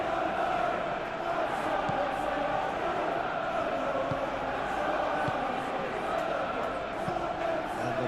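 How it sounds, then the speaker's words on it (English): Stadium crowd ambience in the football video game Football Life 26, a steady, dense roar of many voices that holds at an even level throughout. "We have a hugely expectant crowd here."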